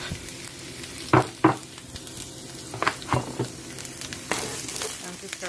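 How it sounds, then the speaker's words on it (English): Chopped onion and garlic sauté in a skillet for a turkey dish, giving a soft, steady sizzle with a few sharper scraping stirs near the start and middle. "Sautee this around and cook it"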